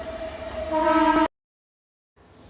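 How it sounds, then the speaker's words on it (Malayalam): A train passes nearby with a loud, sustained horn over a steady rumble, building in loudness before cutting off abruptly to silence, then faint background noise returns. "ചില സമയങ്ങളിൽ ട്രെയിൻ പാസ് ചെയ്യുമ്പോൾ അതിന് നല്ലൊരു സൗണ്ട് വരുന്നുണ്ട്"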